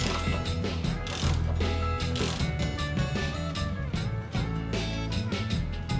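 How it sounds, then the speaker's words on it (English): A ratchet wrench working a nut off a KX250 motorcycle shock during a rebuild, close continuous mechanical clicking over a dense backdrop of steady music. "now we can finally remove this nut."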